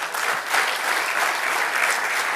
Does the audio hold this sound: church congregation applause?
yes